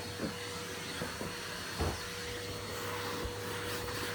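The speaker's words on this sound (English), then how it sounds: "Let's give them a quick vacuum now, and I'm going to turn the covers." Vacuum cleaner running steadily while sofas are vacuumed, a loud, constant broadband whoosh with a steady whine, broken by a few soft bumps as the nozzle moves over the cushions, with no talking.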